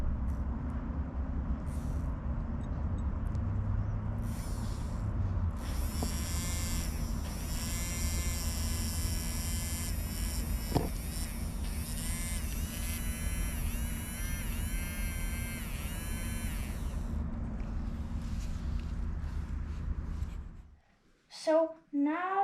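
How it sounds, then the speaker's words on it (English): A small electric motor running on power from a homemade rain-proof solar panel gives a steady whining buzz over a constant low hum, lasting about twenty seconds before stopping, with handling noises at the end. "let's test if there's more current and if it could power up the motor."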